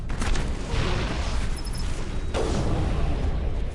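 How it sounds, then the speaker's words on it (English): A grenade going off in the game Mass Effect, a loud, sustained booming rumble that fills the whole span with a slight swell partway through and no clear break or talk. "Oh, okay, grenade."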